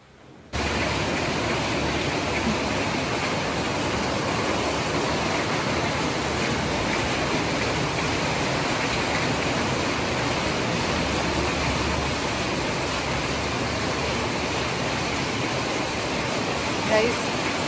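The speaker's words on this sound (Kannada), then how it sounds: "ಗೈಸ್, ಫುಲ್ ಮಳೆ ಬರ್ತಾ ಇದೆ." Heavy rain pours down steadily and loudly, a dense unbroken hiss that starts abruptly and holds at full strength throughout with no let-up.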